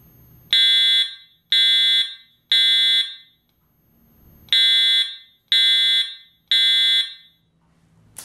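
Home fire alarm system being tested, sounding six loud, piercing electronic alarm blasts in a temporal pattern, three pulses, a pause, then three more, close to the mic.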